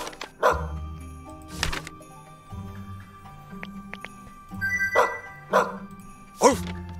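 A dog in the video game Path of the Midnight Sun barks several times in short, bright bursts, spread across a few seconds at moderate loudness over a quiet background.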